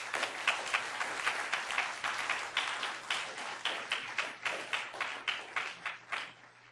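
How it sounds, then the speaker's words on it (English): Audience applause at a moot court competition final round, a moderate round of clapping with distinct individual claps that thins toward the end. "I just want to give them a big hand of applause."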